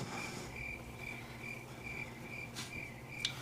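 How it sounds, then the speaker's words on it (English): Crickets chirping steadily at night in evenly spaced, high trilling pulses, moderately faint against a soft background hiss, with a couple of brief sharper noises near the end. "Crickets."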